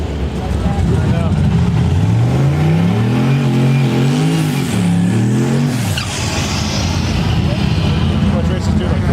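A 1200 horsepower no-prep drag race car revs loudly, its engine pitch rising and falling in a sustained, roaring run with tire noise, while people chatter underneath.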